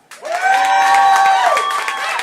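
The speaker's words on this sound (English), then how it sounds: "Round of applause if you're riding for Little Pete." A live comedy crowd answers a round-of-applause prompt with loud cheering and shouting mixed with clapping. The sound rises quickly and holds strong for about two seconds.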